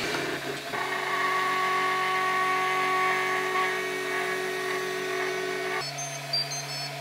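A MakerBot Replicator 2 3D printer with an upgraded extruder drive block runs through a print, giving a steady mechanical hum with sustained whining motor tones that shift pitch near the end, close and continuous with no talking.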